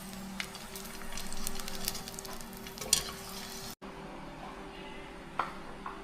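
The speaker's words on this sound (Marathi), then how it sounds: "तर इथं तुपाची कढई होती, त्याच्यात मी टाकते डिंक" Edible gum frying in ghee in a kadhai while making dry fruit ladoos, a steady close sizzle with soft stirring clinks and a brief break partway through.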